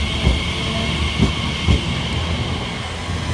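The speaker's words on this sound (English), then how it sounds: "next up we've got a ECS heading into Gidea Park carriage sidings." An empty coaching stock train rolls toward Gidea Park carriage sidings on the Great Eastern Main Line, a steady loud rumble with three rhythmic wheel thumps over rail joints and a faint high squeal.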